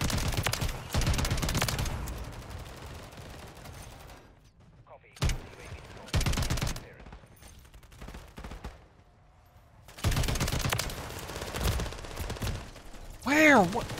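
Bursts of automatic gunfire from Modern Warfare 3 Zombies come in rapid volleys separated by near-silent gaps, fairly loud and close, ending with a rising electronic whine.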